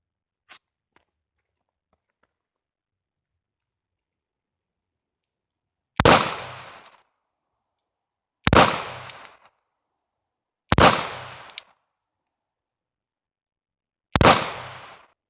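Four sharp 9mm shots from a Glock 26 Gen3 pistol ring out at a range, spaced a couple of seconds apart after a quiet start, each loud crack decaying quickly.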